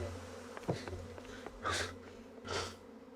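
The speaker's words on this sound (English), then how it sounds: "She just got stung by dozens of bees." Bees buzzing in the video game Monsters (1988), a soft droning hum broken by two louder swelling buzzes that rise and fade over a few seconds, with faint background sound throughout.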